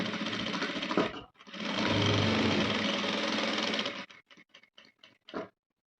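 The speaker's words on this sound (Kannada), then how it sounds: "ಮೊದಲು ನೆಕ್ ಹತ್ರ ಎಕ್ಸಾಕ್ಟ್ ಈ ಪಾಯಿಂಟಲ್ಲಿ ಸ್ಟಿಚ್ ಹಾಕಿ" A sewing machine stitches a Chinese collar blouse in a steady close run of about three seconds after a brief start, then a few short separate bursts of stitching.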